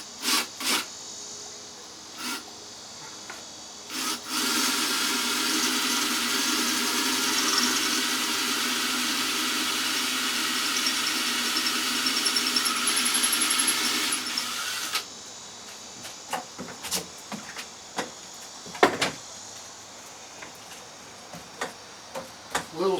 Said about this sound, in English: Now I've got my drill set on drill.